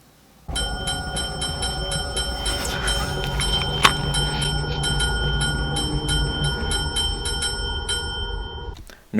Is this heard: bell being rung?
yes